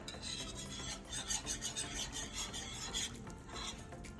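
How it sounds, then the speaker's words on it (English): A whisk scrapes and rasps steadily around a skillet as Parmesan cheese is stirred into a simmering sauce, quick repeated strokes close up and fairly quiet. "Let's whisk in the Parmesan cheese."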